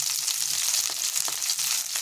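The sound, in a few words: eggplant and vegetables being stir-fried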